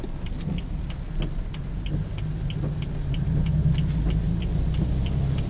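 A 2015 BMW 428i drives in Comfort mode with a steady low engine and road rumble that stays continuous and even throughout. The automatic transmission shifts early, though no distinct shift is clear.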